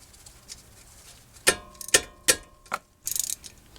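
A wrench loosening the front brake caliper bolts on a 2006 Toyota Sienna, producing a handful of sharp metallic ratcheting clicks and clanks at irregular intervals, close by, with no talking.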